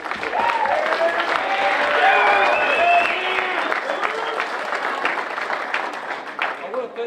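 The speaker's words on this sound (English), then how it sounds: "let's give him a big round of applause" Applause from a crowd at a high school signing day for a player headed to Hardin-Simmons University, sustained clapping with a voice talking over it near the end.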